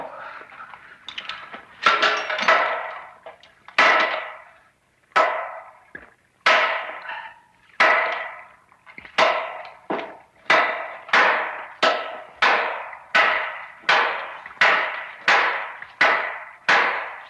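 Hammers striking a wall to break it, a long series of sharp, ringing blows, loosely spaced at first, then falling into a regular, rapid rhythm, close and loud with nothing else heard.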